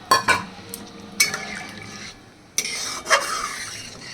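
Water is poured in a small amount into a rohu fish curry in a pan after the spiced oil has been cooked down, giving a few short liquid splashes and pouring bursts with gaps between them.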